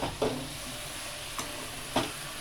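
A spoon stirs mango chutney cooking in a pan, with three short scraping strokes over a steady low sizzle, close up with no voices.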